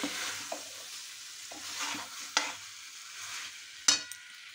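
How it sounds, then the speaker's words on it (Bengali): Fried potato and raw jackfruit being sautéed with spice paste for jackfruit rezala, a steady soft sizzle broken by a few sharp scraping stirs of the spoon, close and fairly quiet with no voices. "আলু আর ইঁচড়টাকেও মশলাটার সাথে বেশ ভালো করে কষিয়ে নেব।"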